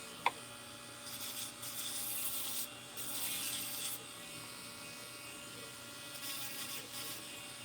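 Sanding a wooden spoon into a whale tail shape, a steady soft rubbing hiss running throughout with brief louder surges, near and alone, with a sharp tap at the very start.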